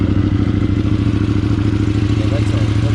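A KTM 790 Adventure R motorcycle idles on a cold start through a Wings slip-on exhaust with the baffle removed, giving a loud, steady, rapid low-pitched thumping burble that stays even throughout.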